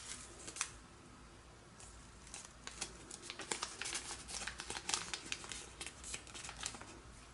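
Paper being valley folded for an origami flicker, faint close crinkles and soft creasing rustles in irregular bursts, quiet throughout with no talking.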